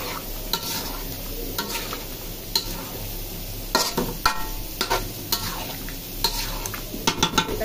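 Potatoes and meat sauté in a pan, a steady sizzle and fry hiss running throughout while a utensil stirs and scrapes in irregular bursts, close and moderately loud.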